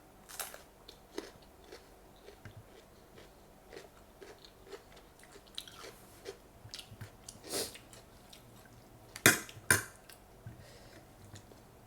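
Close, crunchy bites and wet chewing of Thai papaya salad (som tam), irregular and fairly quiet, with a couple of sharper crunches near the end and no talking.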